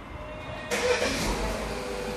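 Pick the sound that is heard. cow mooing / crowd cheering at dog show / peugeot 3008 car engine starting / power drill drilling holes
peugeot 3008 car engine starting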